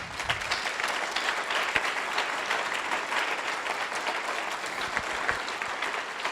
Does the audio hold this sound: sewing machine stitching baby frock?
no